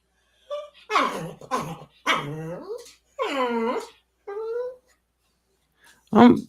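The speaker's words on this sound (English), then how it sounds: "So we'll just continue to keep talking as long as my dog allows me to." A pet dog barks and whimpers close by indoors, giving a run of several separate barks and yelps with short pauses between them, ending with one louder bark.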